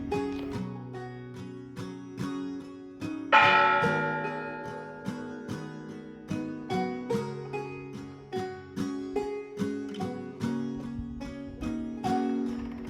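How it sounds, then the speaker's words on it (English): A church bell rings in a small town in southern Mexico: a steady series of loud, resonant strikes with long ringing tails, one heavier stroke standing out, no voices. "the guy sat by the bell of the church ready to ring it at 6"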